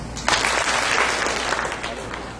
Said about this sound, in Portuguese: Quem está me acompanhando, bate 2 palmas.